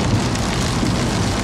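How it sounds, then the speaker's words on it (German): Rain falling on a rainy day at a horse stable: dense, steady patter and hiss filling the whole moment, close and fairly loud, with no voices. "es gibt schlechtes Wetter. Nämlich Regen."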